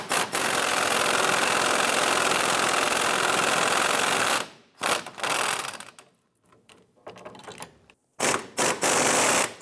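An air impact tool loosens a 13mm front bolt on a rear strut of a 2005-2007 Ford Five Hundred, sounding as a loud, steady buzzing rattle for about four seconds, then short bursts with gaps of quiet between them.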